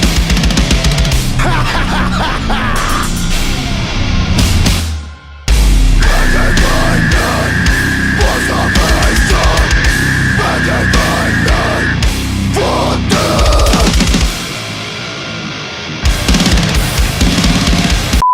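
Loud, dense slam deathcore blasts throughout, with crushing distorted guitars, pounding drums and guttural low vocals, briefly dropping out midway before slamming back in.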